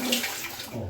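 Water escapes from a faulty shower valve with a small leak, a close, steady splashing rush of running water over about a second.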